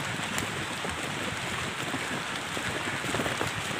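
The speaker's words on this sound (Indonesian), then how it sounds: "ini sampai di sini juga hujan nih" Steady rain falls during an extreme off-road trip to an oil palm plantation near Alus-Alus village, a dense, even hiss of drops on surfaces continuing throughout at moderate level, with no voices.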